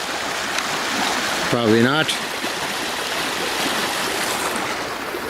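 A creek flows during a dog walk, a continuous rushing, babbling wash of water close by that fills the whole stretch, with a brief spoken remark near the middle.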